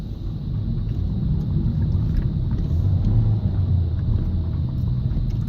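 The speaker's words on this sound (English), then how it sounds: "As I rev." A manual transmission car engine is revved during a pull, giving a steady low droning rumble close to the microphone, mixed with wind noise and a faint high whine.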